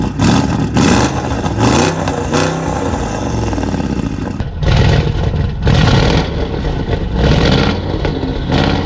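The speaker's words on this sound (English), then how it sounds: "I'm gonna go back to the back so y'all can hear it revving up" A 2023 Audi RSQ8's 600 hp engine revs hard against the rev limiter in a series of loud, repeated bursts, rising and falling without any talking.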